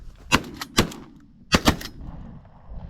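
Several close, sharp gunshots crack out during a pigeon hunt in two quick pairs, with a few faint metallic clicks between them.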